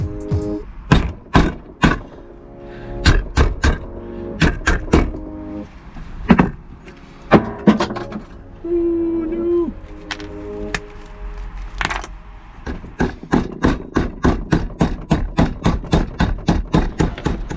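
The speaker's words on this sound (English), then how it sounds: "Just need to drift them out from this side now" Metal drift hammered against Suzuki GS500 brake caliper pins in a shed, producing a long series of sharp, ringing strikes, irregular at first and then a steady rapid run of blows near the end, close and loud with no talk.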